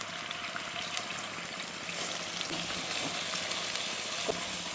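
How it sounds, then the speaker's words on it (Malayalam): Water seasoned with curry leaves and salt boils in a pan for Kerala-style semiya upma as vermicelli goes in, giving a steady close bubbling and sizzling hiss that continues throughout with no talking. "വെള്ളം തിളയ്ക്കുന്നുണ്ട്. അതിലേക്ക് നമുക്ക് സേമിയ ഇട്ട് കൊടുക്കാം."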